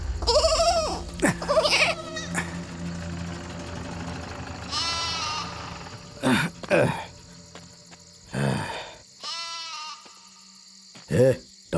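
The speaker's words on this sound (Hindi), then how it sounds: "ये बकरी यहाँ कहाँ से आ गई रे?" A goat bleats repeatedly and loudly nearby at night in a forest by a village, with wavering cries spaced out amid a constant chirp of insects and some talking voices.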